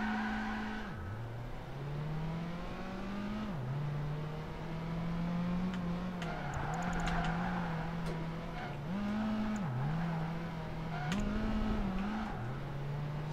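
A Ford Focus RS races in Project Gotham Racing 2, its engine droning loudly and rising in pitch, dropping briefly at each of several gear shifts, with faint tire squeal and no talk.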